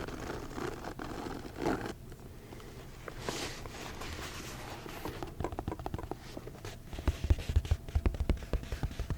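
A zipper on a bag's front pocket is worked slowly, soft scratchy rasps and patters recorded up close and quiet, with short rapid zip bursts toward the end.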